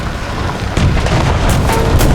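A tank in the War Thunder video game takes a shell hit, producing a heavy boom and then a dense, rumbling roar of impact and engine noise with sharp bursts on top, loud and close.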